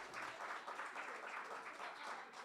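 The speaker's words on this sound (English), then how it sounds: "That's worth a round of applause." Faint, steady applause from an audience at an art dedication event about mass incarceration, a soft, even patter of many hands that continues throughout without a break.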